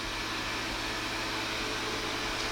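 A robot vacuum cleaner runs with a steady, even broadband whir and hum, moderately quiet and continuous throughout, with no talking.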